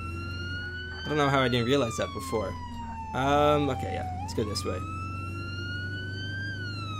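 An ambulance siren wails steadily in the Flashing Lights emergency game, a continuous rising and falling tone over a low engine drone, persisting throughout while someone talks over it.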